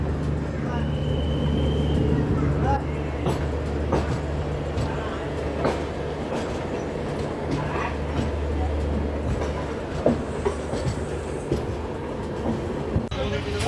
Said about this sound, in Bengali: আর আমাদের ট্রেন কিন্তু এখন রওনা দিয়েছে